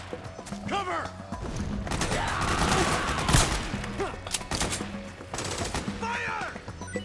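Metal Gear Solid 4: Guns of the Patriots battle: sustained bursts of gunfire and impacts, loud and continuous, with soldiers shouting over the fighting.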